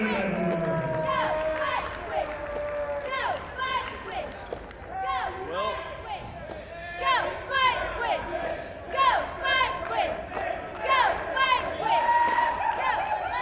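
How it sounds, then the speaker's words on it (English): Buena Vista University cheerleaders perform a chanted cheer at a men's basketball game, their voices rising in rhythmic shouted bursts against crowd chatter, growing louder and more emphatic toward the end. "so now you guys going to do a cheer for us?"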